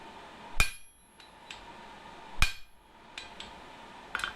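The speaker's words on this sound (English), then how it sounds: "With it heated in the forge, I can flatten it and cut it down to size." A hammer flattens a forge-heated spring steel hinge strap: two loud, ringing blows spaced about two seconds apart, each followed by lighter rebound taps, then a softer strike near the end.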